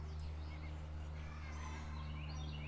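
Distant chickens squawk and cluck faintly outdoors while laying eggs, under a steady low hum, with wild spring birds chirping in the background.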